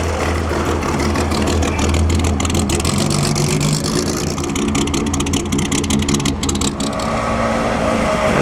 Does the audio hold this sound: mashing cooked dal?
no